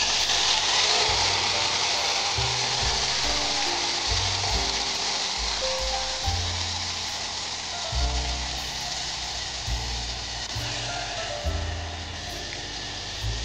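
Tomato gravy sizzles and hisses loudly in a hot pan while sukka mutton is being cooked, a dense steady frying sound with low thuds from stirring, and no voices.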